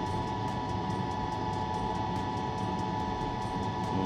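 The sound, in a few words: noisy old airplane cabin in flight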